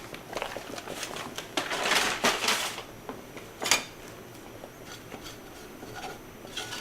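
Flour being stirred in the bottom of a fry pan for Greek lemon chicken, heard as scattered scraping and light clinks of a utensil against the pan, with a few louder taps over a quiet kitchen background.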